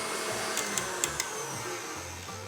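An electric mixer beats butter and brown sugar in a bowl, its steady high motor whir running throughout, with a few light clicks of the beaters against the bowl.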